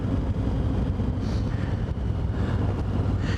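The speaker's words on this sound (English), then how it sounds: "Bit of breeze." Steady, loud wind roar buffeting the microphone while riding a KTM 990 motorcycle on country lanes, a continuous broadband rush with no pauses and no talking.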